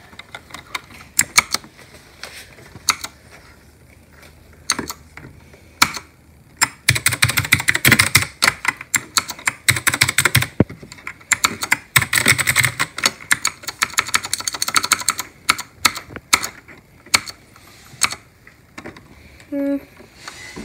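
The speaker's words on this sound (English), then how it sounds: "Rexy Mila Studios keyboard." Keys on a mechanical keyboard with tactile switches clack in bursts of fast typing separated by pauses, crisp and close, each keystroke distinct.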